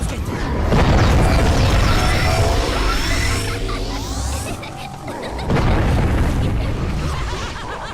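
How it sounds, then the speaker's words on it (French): Rocket launcher blasts from Buzz Lightyear's fight against a witch in a Toy Story video game: heavy booming explosions with debris and mechanical clatter, loud and dense, swelling twice over a busy game soundtrack. "Buzz va avoir besoin d'une grande puissance de feu pour vaincre cette sorcière. Comme par exemple un lance-roquette."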